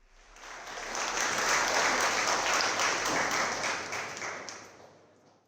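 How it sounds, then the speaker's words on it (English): A room full of people applauds panelists at a business event, steady dense clapping that swells over a second, holds for a few seconds and then tapers off, with no talking. "Ladies and gentlemen, please give them a round of applause."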